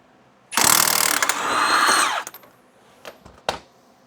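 Power tool spinning out a suspension bolt on a Ford Focus, a loud close whirring burst lasting under two seconds, then winding down, followed by a few sharp metallic clinks.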